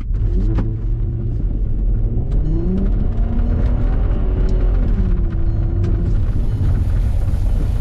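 A four-wheel-drive 4Motion car on all-season tires accelerating in snow, a loud close engine rumble climbing in pitch through the gears with steady road and tire noise, no talking.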